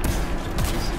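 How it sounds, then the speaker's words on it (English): Missile explosions in the video game Anthem, heard as a dense, continuous roar of overlapping blasts and booms, loud and close, filling the whole brief moment. "Oh, look at those missiles."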